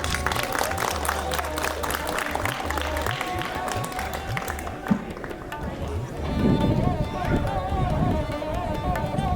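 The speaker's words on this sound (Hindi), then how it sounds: "तालियां" An audience at a conversation session on mythology and translation breaks into sustained applause, dense clapping throughout that swells again near the end, with voices mixed in.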